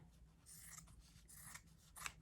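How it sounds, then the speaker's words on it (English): Scissors snipping through green cotton fabric, cutting a small circle in half: a quiet, close run of soft crisp snips with a sharper cut near the end, no talking. "I'm going to cut this in half"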